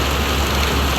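Loud, steady rain hammers down close by, making a thick, continuous wash of noise with no pauses and no voices.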